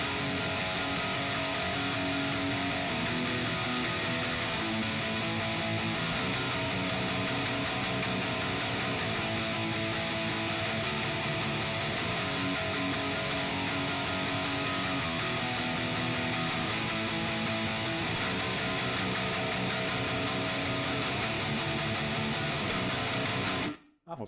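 An electric guitar plays a palm-muted power chord riff from a metal song on the low strings, a dense, distorted, steady chugging pattern that runs on continuously without pause.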